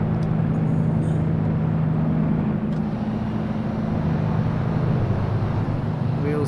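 Avro Lancaster bomber engines droning steadily at close range, a loud, constant low hum with a wash of wind noise and engine roar and no break throughout.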